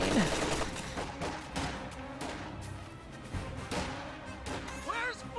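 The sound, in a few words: riflemen firing in a strategy video game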